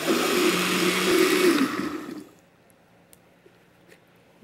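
Crepe batter being whisked with the last of the flour in a bowl, a close wet churning that runs for about two seconds, then stops, leaving quiet room tone with a few faint taps.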